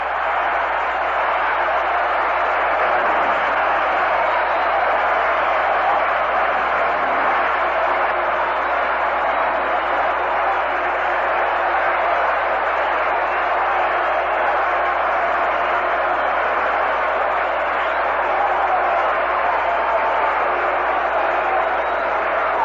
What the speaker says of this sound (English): The crowd roaring, no way of talking over them.